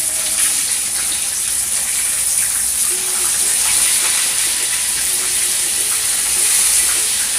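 Steam hisses from a pot of chicken cooking on the stove, a loud, continuous, even broadband hiss with a steady high-pitched whine running underneath and no speech.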